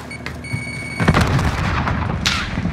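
A frag grenade explodes in a Call of Duty match on the Caldera map, a heavy booming blast about a second in that rolls on with a loud rumbling tail, followed by a sharp crack near the end.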